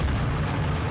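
A grenade detonating in the Modern Warfare II campaign: a loud, dense blast that fills the whole moment, heavy low boom with a rough, sustained roar and no pause.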